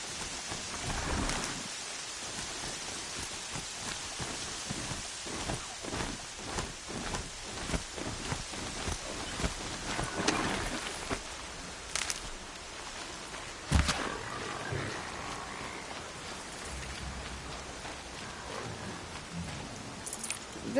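Rain in the video game Horizon Zero Dawn: a steady, soft downpour hisses throughout, broken by several sharp crackles and low rumbles of thunder, with faint footsteps underneath and no speech.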